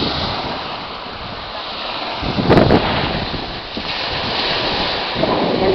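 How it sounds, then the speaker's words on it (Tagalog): High sea waves roll in at the shore in strong wind. A continuous roar of surf is mixed with heavy wind buffeting the microphone, and a brief louder surge comes midway. "Ngayon po ay mataas ang dagat"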